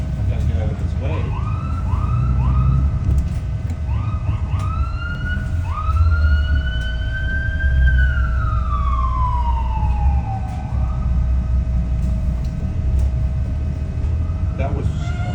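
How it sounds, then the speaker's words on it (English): Emergency vehicle siren in Toronto traffic, a loud wailing tone that rises and falls repeatedly before sweeping down, close by over a constant engine and road rumble. "They cut the siren on"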